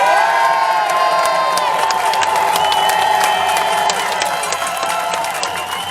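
A loud protest crowd at a Montreal demonstration yells, whoops and cheers continuously, with scattered clapping and shouting voices mixing into a dense roar.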